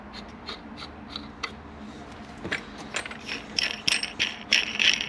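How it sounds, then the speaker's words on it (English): Metallic clicking and ratcheting as a crank puller tool is fitted onto a DRZ 400 crankshaft during engine assembly, scattered sharp taps and clinks up close that grow louder and busier toward the end. "It's actually called a crank puller."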